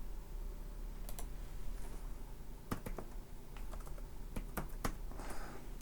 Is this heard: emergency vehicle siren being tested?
no